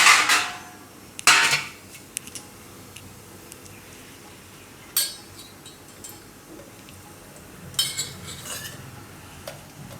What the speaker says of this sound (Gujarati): તો ભાજીને આપણે સુધારી લેવું